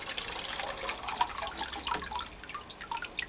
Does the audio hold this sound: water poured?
yes